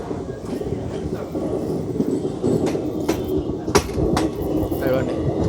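A Howrah–Secunderabad special passenger train runs on the rails with a steady heavy rumble, heard from inside a carriage, with occasional sharp clanks and rattles over the track joints throughout.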